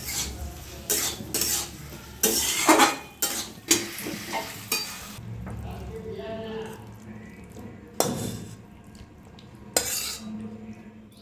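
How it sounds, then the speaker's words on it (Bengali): Banana stem (thor) curry stirred with ghee in a pan, with bursts of spoon scraping and clattering against metal over a low sizzle, several sharp knocks, and a voice talking now and then. "ঘি দিয়ে আমি নাড়ি চাড়িয়ে নামিয়ে নেবো"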